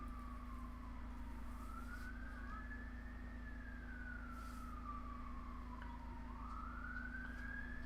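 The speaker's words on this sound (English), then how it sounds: "I can hear loads of sirens." A siren wails in a slow rising and falling sweep over steady low traffic rumble, sounding some distance away.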